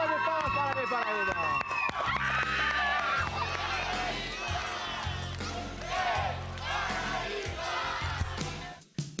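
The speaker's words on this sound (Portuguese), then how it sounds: "uma salva de palmas" A crowd at a São Caetano football club presentation cheers and shouts loudly and continuously, with voices layered over a dense wall of noise and an announcer speaking over it.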